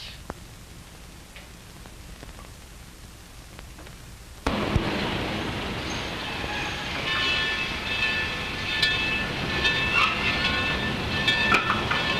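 Train heard in a 1931 film set around Reno, rising abruptly partway through into a loud, steady rumble with clattering and metallic squeals. Quieter ambience comes before it, and no one speaks.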